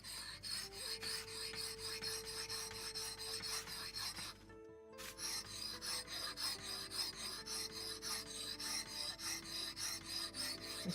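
A knife is sharpened on a whetstone with steady, rhythmic rasping strokes up close. The strokes stop for a brief pause midway, then resume, and no one talks.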